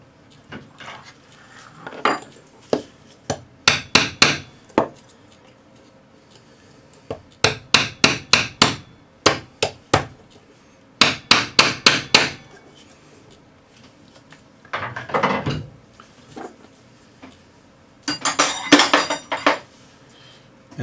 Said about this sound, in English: but we'll use a rawhide mallet